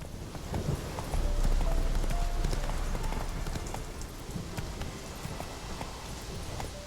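Hooves of a ridden horse clip-clop in a video game, a fairly loud, quick steady gallop across the whole stretch with faint rain-like patter behind it.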